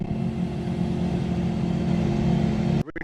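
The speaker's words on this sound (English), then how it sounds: "Every time these 4-wheelers come out" Engines of 4-wheelers on a wooded backcountry trail hum and drone steadily at moderate distance, a continuous motor rumble that cuts off abruptly near the end.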